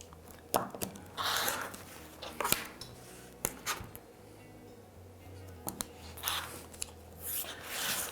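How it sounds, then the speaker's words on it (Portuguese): Scissors cutting a triangle of patchwork fabric, a few crisp snips and rustling slides spread across the moment, faint and close in a quiet room. "Vou pegar e vou cortar todo a metade do meu triângulo"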